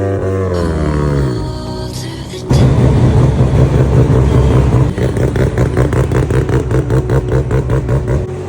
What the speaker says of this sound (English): This race car runs a 13V rotary engine.